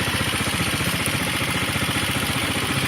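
A Dafra Kansas 150 motorcycle idles nearby with a steady, even low thrum and light mechanical clatter, running alone without voices.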